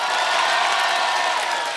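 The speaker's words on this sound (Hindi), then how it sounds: "जोरदार तालियों से स्वागत कीजिए the multi talented actor mister Ayushman" Dense, steady applause and crowd noise from a studio audience at a TV comedy show welcoming actor Ayushmann Khurrana, loud and continuous with no pauses.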